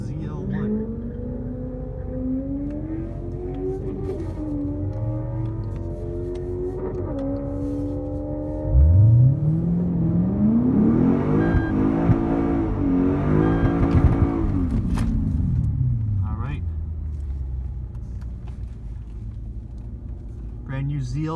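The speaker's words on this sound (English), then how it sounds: "To race a red ZL1." A Camaro ZL1 and a Lexus IS F race, engines rising through gear changes before one car roars hard past up close, its note building and fading as a voice speaks over the noise.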